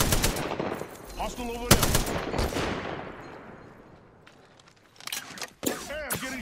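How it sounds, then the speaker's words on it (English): Automatic gunfire from weapons in the battle royale video game Apex Legends, loud bursts of shots at the start and again near the end, with a voice speaking briefly in between. "Hey, I'm getting shot."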